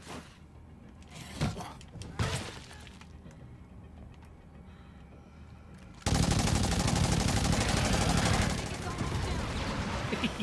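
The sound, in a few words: Masterwork Assault Rifle firing in the video game State of Decay 2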